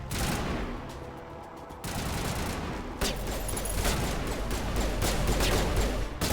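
Gunfire in Mass Effect Legendary Edition crackles in loud, continuous bursts, with rapid volleys and sharp shots layered over a dense background for several seconds.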